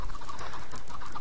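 Minecraft chickens clucking in a steady run of short, bird-like calls that repeat throughout, fairly close and with no talking over them.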